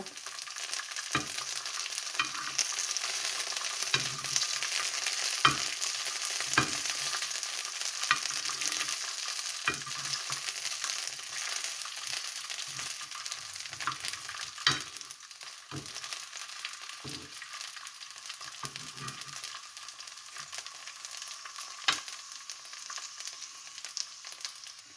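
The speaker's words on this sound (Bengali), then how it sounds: "রসুন মরিচগুলো দিয়ে আমি ভালোভাবে ভেজে নেব" Garlic and chillies fry in a pan, giving a quiet, continuous sizzle broken by repeated clicks and scrapes of stirring.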